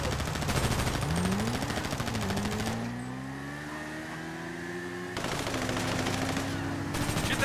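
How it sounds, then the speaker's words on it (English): Precision rifle gunfire in GTA Online: sharp, loud game gunshots burst out early on and return near the end, over steady engine drone and a rising motor whine from vehicles. "I'm gonna use my precision rifle."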